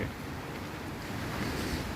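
Sea waves roll in at Nam Rin beach in Ban Chang, Rayong, a steady low surf wash mixed with gusty wind buffeting the microphone.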